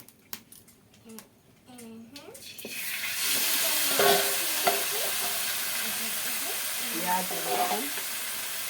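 Marinated chicken goes into a hot pan: quiet clinks and a voice at first, then a loud sizzle that swells and holds steady as the meat is stirred and fried, with talk continuing over it.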